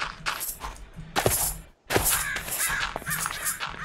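Crows cawing in the modded Minecraft game RLCraft, harsh calls repeating in bursts over a dense, busy game soundscape with a brief drop to near silence partway through.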